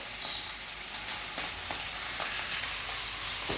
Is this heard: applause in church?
no